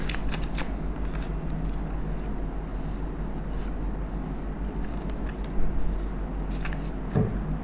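A deck of tarot cards is shuffled and cards are drawn, producing a close, continuous papery riffling and flicking with a few sharper snaps and taps over a low steady background hum.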